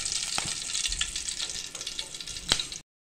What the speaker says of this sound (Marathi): आता आपण ह्याच्यामध्ये कांदा टाकतोय।